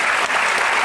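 A television studio audience applauds a singer's guitarist during a 1997 French-language music show, a brief burst of dense, loud clapping that fills the whole moment.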